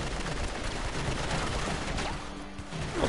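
Heavy gunfire in the video game Uncharted: Drake's Deception, a dense continuous barrage of shots and impacts filling the whole stretch at steady loudness.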